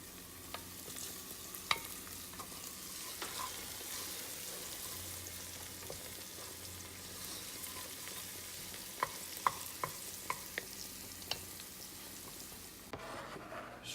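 A spoon stirs minced anchovies and garlic in a pan, a soft continuous sizzle of frying with scattered small clicks and scrapes against the pan, quiet and steady throughout.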